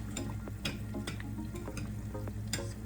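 Churros frying in hot oil, a steady dense sizzle with occasional sharp clicks and knocks of a spoon against the pot, continuous and close throughout.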